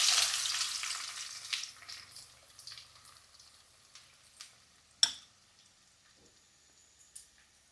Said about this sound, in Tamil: வெங்காயம் போட்டுக்கலாம்.